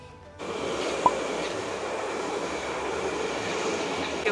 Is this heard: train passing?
yes